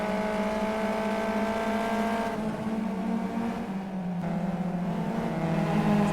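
Race cars in a racing video game, heading toward the corkscrew, roar past with strong engine tones that shift pitch as they brake and accelerate, loud and continuous with no talking.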